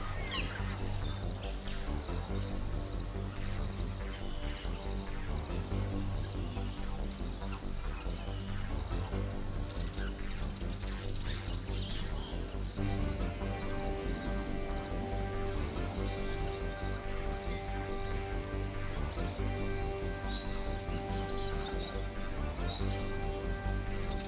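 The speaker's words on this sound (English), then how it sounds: "the blue-faced honeyeater is a popular honeyeater" A blue-faced honeyeater calls amid leafy surroundings, giving repeated sharp chirps and harsh notes at moderate distance over a steady low background hum, with other faint bird sounds mixed in and no talking.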